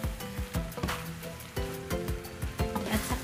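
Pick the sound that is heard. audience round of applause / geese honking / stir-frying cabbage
stir-frying cabbage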